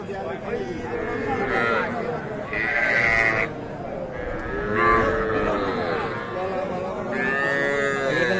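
Cattle and young calves at the Aftabganj cattle market low and bellow repeatedly nearby, several overlapping calls rising over a busy crowd murmur with people talking throughout.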